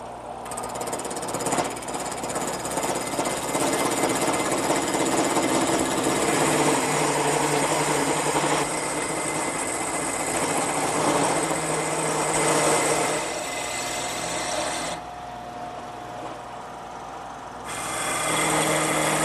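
A high-pitched template router whines steadily as its cutter chews through wood, continuous with slight shifts in load, briefly dropping in intensity near the end.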